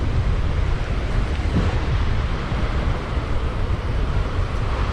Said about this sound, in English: I again apologize for the noise of the wind.